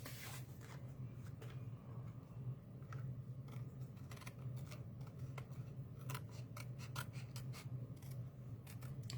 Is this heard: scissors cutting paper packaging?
yes